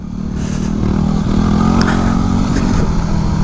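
A Yamaha WR250R dual-sport motorcycle engine runs close by with a loud, steady droning rev and slight rise in intensity, along with faint clattering.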